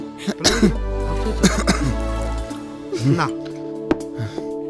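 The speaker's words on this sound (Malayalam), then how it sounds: "അവൻ ചുമക്കുന്ന കണ്ടോ?" A man coughs in several rough, throaty bursts, close by, with a clearing of the throat in between. Speech is heard around the coughs.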